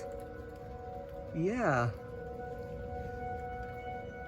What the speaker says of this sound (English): I could hear the closest siren to this house.